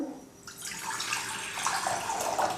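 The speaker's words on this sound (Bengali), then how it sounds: "এবার দিয়ে দেব জল" Water pours steadily into a cooking pot being readied to boil potato pasta, a continuous broadband splashing stream that fills the space close by, with no voices.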